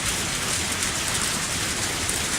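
Rain falling in the video game Lucky Dog 1+ Bad Egg: a steady, dense hiss of rain on a surface, with no other sounds and nobody speaking.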